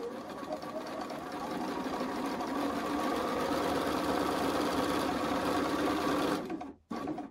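A sewing machine stitches quilt fabric in one continuous, fairly quiet run, then stops abruptly near the end with a brief gap before a final short sound.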